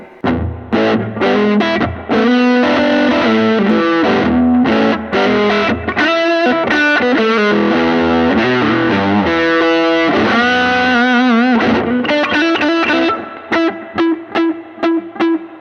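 An electric guitar through a blues pedalboard with a subtle delay and a Tube Screamer overdrive plays a continuous, busy finger-picked passage, driven and close, with choppier strummed accents near the end.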